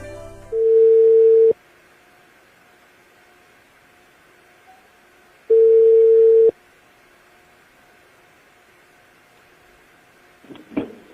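An international telephone call placed from the United States sounds two long, even ring tones separated by a pause of about four seconds, followed by a brief rustle at the end.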